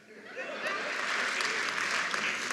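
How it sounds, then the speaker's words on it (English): A comedy club audience applauds a stand-up comic's rant, a sustained loud roar of clapping that swells quickly and holds steady. "I love the applause"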